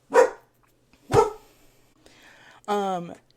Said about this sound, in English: If you hear her barking in the background